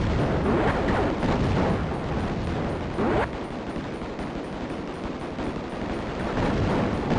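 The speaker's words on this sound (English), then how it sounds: "we can use a mega bomb" Mega bomb blast in the top-down shooter Raptor: Call of the Shadows, a loud roaring explosion that rumbles on for several seconds, with a fresh burst swelling near the middle over the steady hum of aircraft engines.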